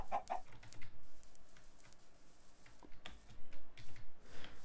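A chicken in Minecraft with the IndustrialCraft modpack clucks in short bursts, loud at the start and then scattered, over steady game ambience and clicking.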